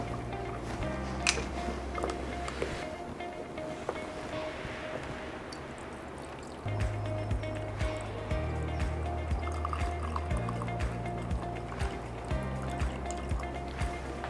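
Water is poured into a soil-filled Winogradsky column, a soft, continuous trickle and gurgle heard faintly over a steady low musical background.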